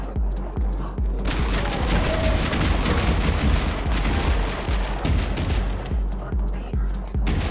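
Automatic gunfire in a first-person shooter game, a dense continuous barrage of rapid shots with rhythmic heavier bursts, loud and close throughout.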